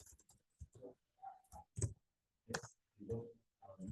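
Keys clack on a computer keyboard in short irregular bursts of clicks, close and fairly quiet, with brief gaps between strokes and no talk over them.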